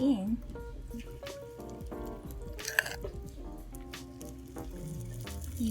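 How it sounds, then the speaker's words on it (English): Waffle batter sizzles and crackles softly in a mini waffle maker, a faint continuous hiss with small wet pops, while a person talks over it. "can hear the sizzling is really nice"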